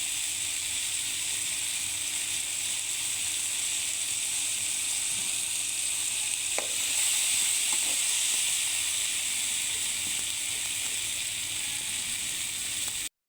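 Curry leaves hitting hot oil while cooking a raw prawn and leafy greens curry, giving a steady, bright, continuous sizzle and hiss with a couple of faint clicks partway through.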